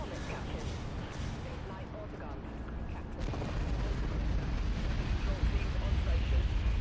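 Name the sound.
broadside cannon fire in Dreadnought video game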